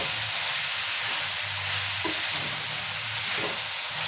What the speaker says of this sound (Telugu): టమాటాలు వేస్తున్నా.